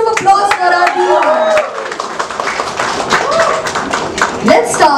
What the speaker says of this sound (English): can we have a big round of applause for our team?